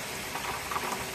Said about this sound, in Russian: Какой дождь пустился.